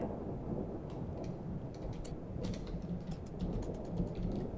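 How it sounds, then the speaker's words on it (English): A thunderstorm with steady rain in the game RimWorld: a continuous low rumble of thunder under a wash of rainfall and scattered drops, moderately quiet and with no talk over it. "Stormy weather."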